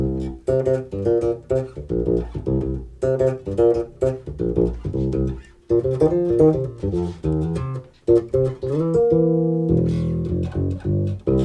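A Nordstrand electric bass played over its Music Man-style pickup plays a punchy, plucked riff with short, bitey notes in a steady rhythm, solo and close, with no talking.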